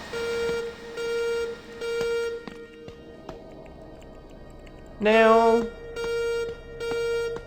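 An alarm in a mobile horror game beeps in a steady repeating pattern of short tonal pulses, broken by a louder sliding electronic tone midway, with a brief voice speaking.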